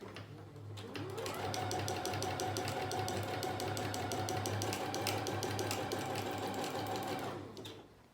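A domestic sewing machine stitches through a fully lined teddy coat, running at a steady, rapid, even clatter for about seven seconds before stopping, close and alone with no talking.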